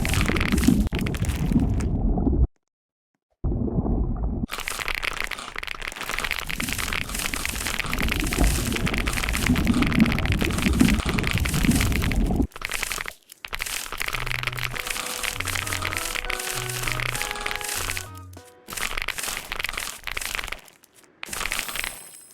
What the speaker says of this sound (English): Moving on to sound number 3, the candy sound.